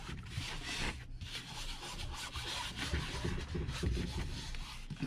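Hands rub a green coating into a surface in a steady, close, quiet scrubbing with repeated rasping strokes and no talking.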